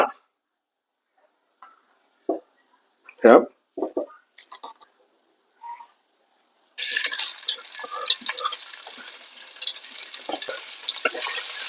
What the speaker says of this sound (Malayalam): വീണ്ടും വെളിച്ചെണ്ണ